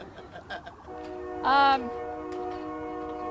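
A train horn blares once, loud and sustained, over a steady low rumble of a passing train, with a few words spoken just before.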